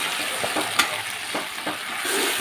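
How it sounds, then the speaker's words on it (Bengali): Onions frying in a pan with a ground paste of ginger, garlic, cumin, coriander and green chilli plus turmeric, a steady close sizzle broken by occasional stirring scrapes, no voices. "এবারে আমি পেঁয়াজটা কিছুক্ষণ ভেজে নেব"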